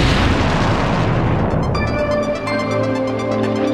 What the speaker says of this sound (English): setting off a fatal explosion